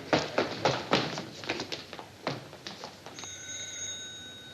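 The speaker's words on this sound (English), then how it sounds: "The phone's ringing." An old-fashioned telephone bell rings steadily near the end, following a run of brisk knocks and thumps, all fairly faint and distant.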